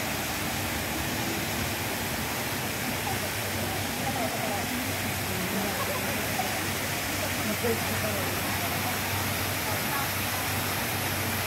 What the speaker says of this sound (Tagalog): Yun guys, so ito yung falls nila.